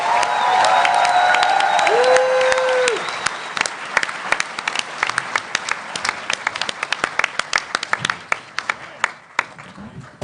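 Applause and cheering from a New York Comic Con panel audience for The Expanse swell loudly at first, with a whoop, then thin out into scattered individual claps.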